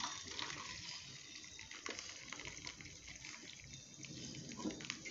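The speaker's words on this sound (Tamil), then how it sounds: "தண்ணி வடிகட்டியாச்சு" Water from cooked lentils pours steadily through a strainer in a home kitchen, a continuous splashing gush that runs evenly for several seconds with no talk.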